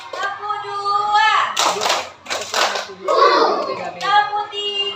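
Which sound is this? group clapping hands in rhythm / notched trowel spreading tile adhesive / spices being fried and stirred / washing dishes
group clapping hands in rhythm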